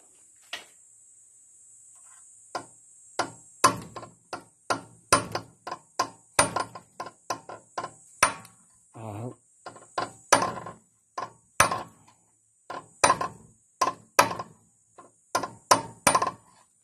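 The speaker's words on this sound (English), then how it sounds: "I'm going to nick it with a hammer. I think I'm going to use this more heavy one" Heavy hammer strikes on a Peugeot 504 station wagon MacPherson strut part, many sharp metallic blows in irregular bursts, close and loud against a steady faint electrical whine.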